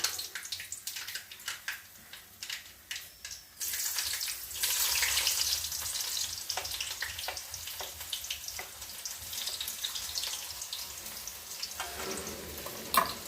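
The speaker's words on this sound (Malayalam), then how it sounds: "കടുക് പൊട്ടുന്ന നമുക്ക് ഇട്ട് കൊടുക്കാം" Hot oil sizzles steadily while mustard seeds crackle and pop in sharp, irregular bursts, close by and fairly loud, with no voices.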